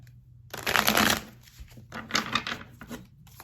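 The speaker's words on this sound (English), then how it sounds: "I'm going to shuffle one more time." Tarot cards being shuffled by hand in a few riffling bursts, a long rustle followed by shorter flicks and slaps, close and clear with no talking.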